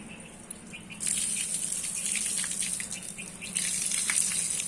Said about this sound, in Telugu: మోటార్ వేసి కొద్దిసేపు ఇదిగోండి నీళ్ళు వదిలేస్తున్నాం